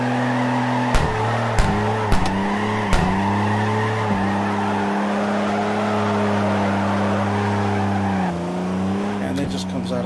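Sustained engine drone from a car sliding sideways in the CarX Drift Racing video game, pitch wavering with throttle blips and shifts, with tire skid noise running throughout; a voice talks over it.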